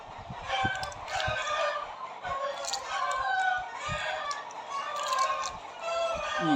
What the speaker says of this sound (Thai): วันนี้มีไก่นะครับไก่อยู่ข้างหลังไก่ตื่น ก็เลยกระตากนิดนึงนะครับ